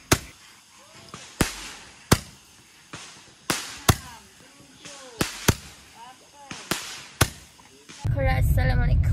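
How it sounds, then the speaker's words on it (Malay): Firecrackers and fireworks go off outdoors during a Hari Raya celebration, a series of sharp, separate bangs spaced about a second apart with ringing tails, ending in a dense crackling burst. "Main bunga api mercun."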